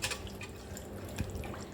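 Water poured into tomato chutney in a home kitchen, a steady wet trickle and splash running through the whole short stretch, moderately close with a faint thump near the end.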